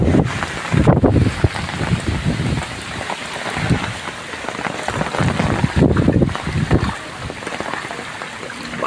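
Heavy rain and gusting wind lash down during flooding in Kelavane, Raigad, after a Patalganga river dam burst, a continuous roar of rain with bursts of wind buffeting the microphone.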